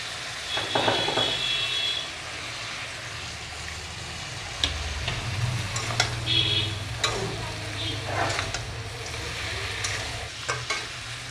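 Crab fries in a pan as cumin powder goes in, a steady close sizzle with scraping stirs and occasional clinks of the utensil against the pan.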